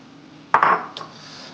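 Fried pappad goes into a pan with dried prawns and is stirred: one quick metallic clatter and scrape, a light clink after it, then near silence.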